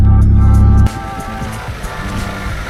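A Mazda 323 engine running after its distributor was repaired, a steady low rumble with a loud burst at the start that quickly drops to an even idle.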